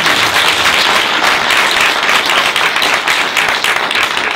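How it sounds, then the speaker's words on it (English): A live audience at a SXSW 2015 event bursts into sustained applause, dense steady clapping from a large crowd that holds at an even, loud level throughout without any talking. "We need a round of applause for that."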